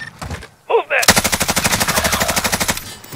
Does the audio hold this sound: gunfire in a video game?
yes